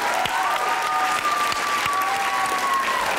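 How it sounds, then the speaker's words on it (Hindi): Steady, full applause from a studio audience on a Pakistani comedy talk show, loud and sustained throughout, with scattered claps and a cheer or whistle on top. "एहसन भाई के लिए ताली होनी चाहिए"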